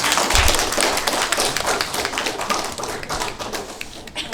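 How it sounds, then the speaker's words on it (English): An audience applauding in a hall as speakers walk up to share their views on a book, a dense burst of clapping with sharp hand taps, strongest at first and gradually thinning out. "let us give a warm round of applause as they come up to share their views"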